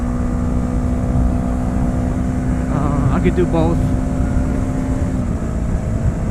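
Yamaha R3 motorcycle humming at a steady engine drone with a sustained low tone, while someone talks over it near the microphone.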